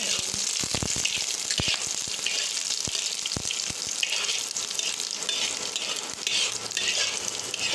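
Garlic and black cumin (nigella seeds) fry in oil in a pan, a constant bright sizzle with a few sharp clacks of the stirring spoon early on, close and steady.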